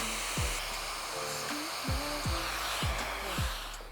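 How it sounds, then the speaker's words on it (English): A hair dryer fitted with a diffuser blowing steadily while short hair is dried, a constant close whooshing hiss with a few brief low thumps, no speech. "you want to really have minimal movement in the diffuser"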